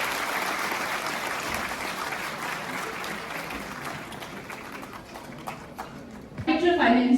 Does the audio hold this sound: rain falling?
no